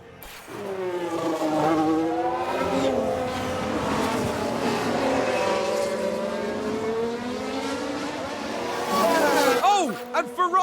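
Ferrari F1 car locking up under braking in a 1993-season F1 Manager 22 race, engine tones sweeping up and down steadily with a brief tire screech near the end, under continuous commentary.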